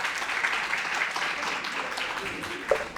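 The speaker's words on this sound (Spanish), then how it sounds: "Aplaudan al Señor" Church congregation clapping for several seconds, a dense, steady wash of applause from a room full of people, fairly even throughout with one sharper accent near the end.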